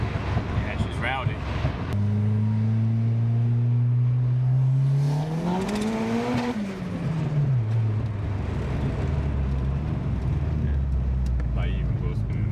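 Turbocharged Ford Escort sleeper with an MTX gearbox fitted, its engine revving up in a rising, then falling tone against heavy wind buffeting, with people talking nearby.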